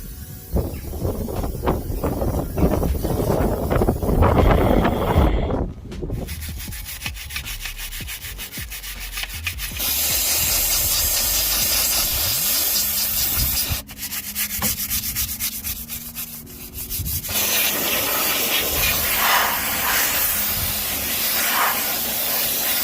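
Close, rough rubbing and scrubbing on a car engine bay being cleaned of grease with WD-40, interrupted by bursts of aerosol spray hiss, loud and continuous without speech.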